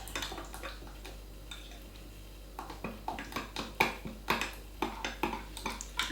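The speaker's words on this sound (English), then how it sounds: "Now, I'm going to give this a good mix up because we want to combine it." A spoon stirs a thick garlic-paste marinade in a bowl for Greek-style pulled pork, faint scraping at first, then a steady run of soft rhythmic clinks against the bowl.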